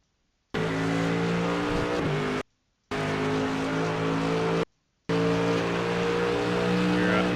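Mercedes AMG GT3 race car at full throttle around the Spa circuit, a loud steady engine howl broken by two brief silent cuts, resuming strongly each time, no voices over it.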